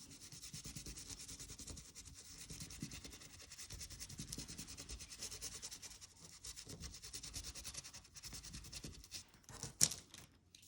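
Gilding paste is rubbed by hand onto a stenciled craft surface, a faint, steady scratchy rubbing in quick back-and-forth strokes, ending with a brief sharper scrape, with no talking.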